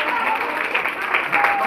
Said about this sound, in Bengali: তোমরা সবাই ওদের উৎসাহিত করার জন্য একটু ধরে হাততালি দাও।